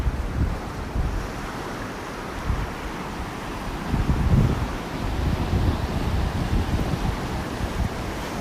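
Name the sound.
ocean waves on a beach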